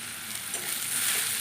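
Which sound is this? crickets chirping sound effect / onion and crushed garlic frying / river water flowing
onion and crushed garlic frying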